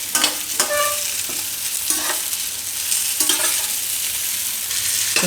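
Stuffed ridge gourd cooks in hot oil in a pan, sizzling steadily and close, broken by several scraping, clattering turns of a spatula against the pan.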